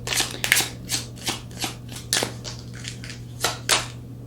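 Oracle cards being shuffled by hand in a series of brisk, close riffling bursts, about a dozen crisp flutters spaced irregularly over a low steady hum, with no voices.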